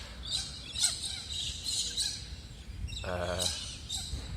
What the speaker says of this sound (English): As birds are loud, right?